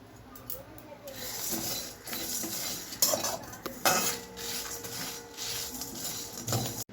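Whole spices are dry-roasted in a hot kadhai and stirred, with uneven scraping, rattling clinks and a faint sizzle, and a voice briefly heard in the background.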